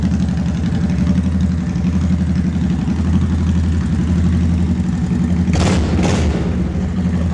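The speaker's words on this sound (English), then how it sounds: "The pipes are actually pretty loud." A motorcycle with loud exhaust pipes idles up close, a deep steady rumbling throb that holds evenly throughout, with two brief sharp bursts near the end.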